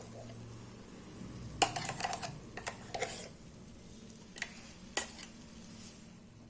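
Ground moong dal goes into a pan for halwa and is stirred: scattered scrapes and clinks of a spoon against the pan over a low steady hiss, several sharp taps clustered early and a few more later.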